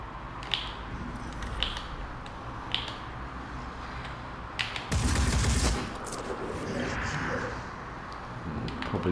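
Phoenix Point shots crack in a few single spaced reports, followed by a louder sustained burst of automatic fire and a rumbling impact, moderately loud against a low ambient bed.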